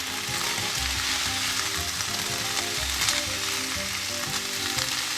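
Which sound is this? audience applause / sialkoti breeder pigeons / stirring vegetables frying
stirring vegetables frying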